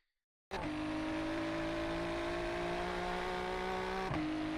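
A loud Ferrari 296 Challenge race car engine drones steadily at high revs, with a brief shift in pitch near the end, in a racing video game at Sebring.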